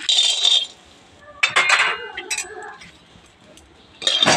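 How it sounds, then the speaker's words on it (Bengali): Peanuts tumble into a hot kadai in short bursts of sizzling clatter, with a loud rattle at the start, another at mid-clip and a final burst at the end, separated by quieter gaps. "কড়াইটা গরম হয়ে গেছে বন্ধুরা এখানে দিয়ে দেবো বাদাম"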